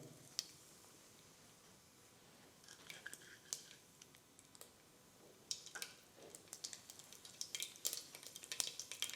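Mustard seeds dropped into hot oil pop and crackle in scattered sharp ticks over a faint sizzle, sparse at first and growing busier and louder toward the end, with no talking.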